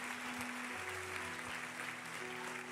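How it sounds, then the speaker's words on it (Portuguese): Church congregation applauding in a continuous dense patter, with a sustained organ or keyboard chord held underneath; no talking, steady and moderately loud. "Pode aplaudir que tem gente vindo aí."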